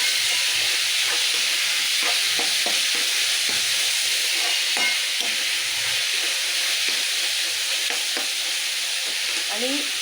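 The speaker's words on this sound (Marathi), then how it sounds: "त्याच्यामध्ये थोडासा कांदा, टॅमॅटो मस्त परतून घ्यायचा" Chopped onion and tomato sizzle steadily in hot oil in a pan while being stirred for a dry cauliflower dish, a continuous close frying hiss broken by soft spoon scrapes and clicks.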